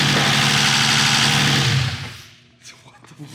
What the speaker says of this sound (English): We got so much lifter noise right now